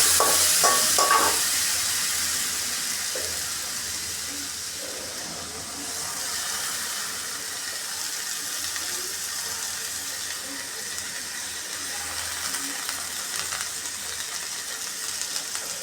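Soaked rice is fried and stirred in a hot pan with bay leaf and garam masala, giving a continuous sizzle with scraping stir strokes at the start, steady and close.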